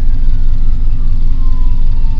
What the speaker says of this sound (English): Yes, so Where are they coming from? That way. that way. Here they come. It's an ambulance.